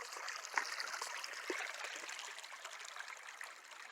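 A creek flowing over stones upstream of an alluvial valley in the Foster Creek mining district: steady, continuous rushing and trickling water, fairly close, with no voices.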